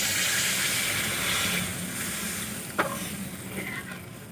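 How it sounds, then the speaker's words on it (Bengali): Water poured into hot tomato masala for a bhola fish curry gives a loud, steady hiss and sizzle, with a brief clink partway through. "এখন আমি দিয়ে দেব পরিমাণ মতো জল।"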